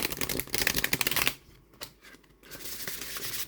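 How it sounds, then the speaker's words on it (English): Stiff tarot cards from a Samhain oracle deck riffled and shuffled up close, a fast papery flutter of several bursts with a short pause before the shuffling resumes. "Okay, really quickly, have a look at how they shuffle."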